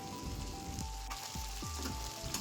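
Pointed gourd (potol) sizzling in hot oil in a pan, a steady crackling fry with a few soft clinks of stirring, close and alone without talk.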